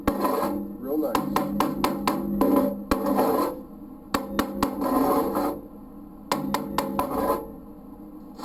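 Slag being chipped and scraped off a 7018 stick-weld bead, with a run of sharp metallic knocks and taps coming in close bursts between quieter gaps.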